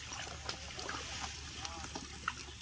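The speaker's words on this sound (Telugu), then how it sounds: "అది బోటు." A boat moves on a pond, heard as a faint, steady wash of water and a low hum, with soft murmured voices in the background.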